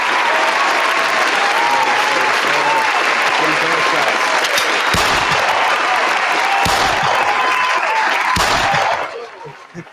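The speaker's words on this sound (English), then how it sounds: "I'm going to have to give you these hand claps" Sustained audience applause with dense hand clapping, loud and close, continuing steadily for most of the stretch before cutting off near the end, with a few sharp louder claps standing out.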